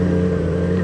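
A motorcycle engine hums steadily while riding, with a strong low exhaust drone and sustained harmonic tones, close and loud for under a second with no talk over it.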